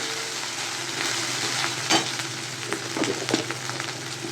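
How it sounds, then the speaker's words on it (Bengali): A handful of Gobindobhog rice fries in a pan, giving a steady, close sizzle with a few sharper stirring scrapes and clicks toward the end. "আমি গোবিন্দভোগ চাল 1 মুঠো নিয়েছি। একটু ভেজে নেব।"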